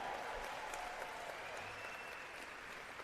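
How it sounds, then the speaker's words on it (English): A brunch audience of county party chairs breaks into dense, continuous applause, a steady wash of many hands clapping, faint and somewhat distant throughout. "Another round of applause, please."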